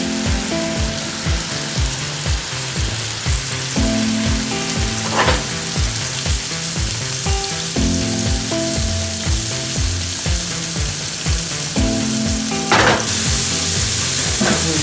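Burger patties sizzle steadily in a frying pan, a loud, continuous crackle with rhythmic scraping and clicking of a spatula or utensil running throughout.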